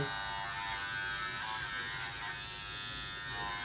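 A Wahl 100th Anniversary cordless hair clipper buzzes steadily and loudly at close range, a dense constant electric drone with no talking.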